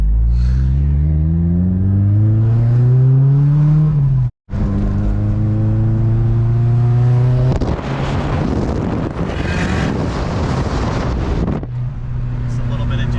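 A boosted Mazdaspeed6 engine running 42 psi accelerates at half throttle, its rising drone climbing in pitch, breaking off briefly and then surging again with windy rushing noise.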